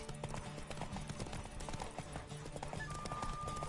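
Horse hooves clip-clop in a rapid, steady rhythm during a Witcher 3 horse race, moderately close and continuous, with faint game ambience beneath and a brief whinny-like tone near the end.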